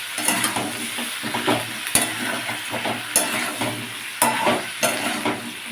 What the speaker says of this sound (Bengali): দিয়ে আবারও ভালো করে মিশিয়ে নেবে